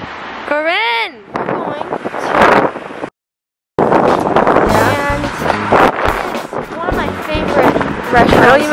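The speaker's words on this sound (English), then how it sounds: "I don't even know if they can hear you because of the wind." Strong wind gusting outdoors on a snowy New York street, buffeting the microphone in loud rumbling bursts while people talk nearby.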